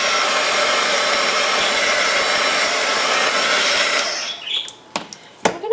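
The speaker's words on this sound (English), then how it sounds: "Now I'm going to dry the page." Hair dryer blowing on a watercolor Bible journaling page gives a loud, steady rush of air for about four seconds, then cuts out, leaving a few sharp handling knocks.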